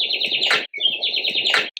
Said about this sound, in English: birds sitting on the branches and chirping to make those beautiful sounds